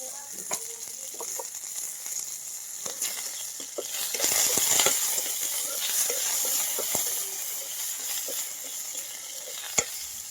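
Curry leaves and cumin seeds sizzle in hot oil in a home kitchen, a bright crackling hiss that swells midway as the pan is stirred, with spoon clinks and no talking.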